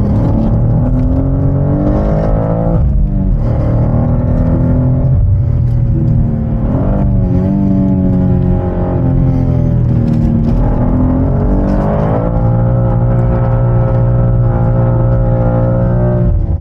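A BMW M2 is driven hard around an empty race circuit, its engine revving loud and close throughout, pitch climbing and dropping through gear changes with a steady roaring rumble.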